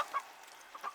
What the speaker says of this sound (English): Too many roosters in the hen house.